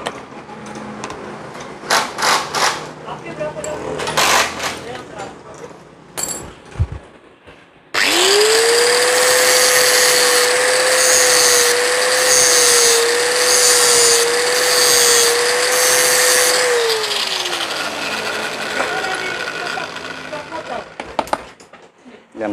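An electric grinder sharpens a chopping knife blade, starting abruptly with a loud, steady high whine that holds for about ten seconds before winding down, after quieter handling noises.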